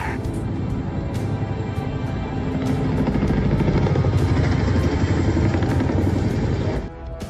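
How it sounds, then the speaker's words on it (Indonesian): A military transport helicopter from the zombie film Peninsula drones steadily and loudly with heavy rotor noise, growing louder midway and then cutting off abruptly near the end. "Jung-suk dan yang lainnya melihat helikopter pengangkut militer BB dan mengarahkannya mendarat di pelabuhan."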